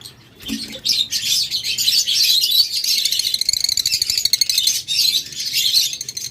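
A pair of violet opaline lovebirds chirps and tweets nonstop at close range, shrill and bright, with a brief thump near the start.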